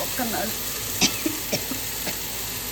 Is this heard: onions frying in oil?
yes